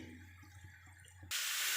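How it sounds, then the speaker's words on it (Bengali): Water from a tap or jug poured into spinach in a pan for a fish and spinach curry, a sudden loud steady hiss and splash after a quieter stretch of faint clinking. "এখন পানি দিয়ে দিচ্ছি"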